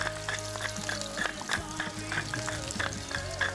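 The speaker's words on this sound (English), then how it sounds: "now we are sauteing away all of these great vegetables that we're going to be putting on the pulled pork egg" Vegetables with big chunks of pepper sautéing in a pan for pulled pork egg rolls, a close, steady sizzle and crackle with spatula stirring, with faint voices and a humming tone in the background.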